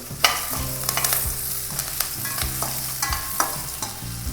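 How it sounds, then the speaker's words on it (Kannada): Curry leaves and Byadgi chillies fry in hot oil for an Udupi-style ash gourd sambar, crackling and sizzling steadily up close while a spoon stirs and taps the pan at irregular intervals, with no talking. "ಕರಿಬೇವಿನ ಸೊಪ್ಪು ಕ್ರಿಸ್ಪ್ ಆಗೋವರೆಗೂ ಇದನ್ನು ಫ್ರೈ ಮಾಡ್ಕೊಳ್ಳೋಣ"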